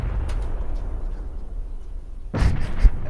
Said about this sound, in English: we were just like shooting at the same time